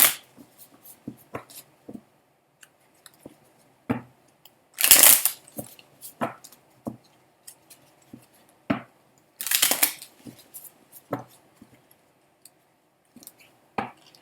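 Tarot cards being handled and shuffled: two short riffling bursts stand out among scattered soft clicks and taps of cards, close by in a quiet room, with no speech.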